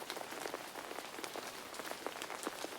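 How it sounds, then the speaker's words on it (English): Rain patters steadily and close on an umbrella's fabric, a dense, even patter of drops with slightly louder taps scattered throughout, and no voices. "The rain pitter-pattered on the material of the umbrella"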